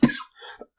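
A person coughs once sharply and close, followed by a softer second cough and a brief throat-clearing rasp, from a podcast host who is under the weather.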